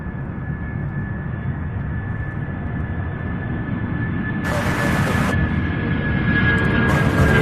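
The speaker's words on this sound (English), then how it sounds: "Takeoff 757." A Boeing 757 jet takes off at Louisville International Airport, a steady broadband engine roar with a whining tone, growing slightly louder over the clip and heard alone from a distance.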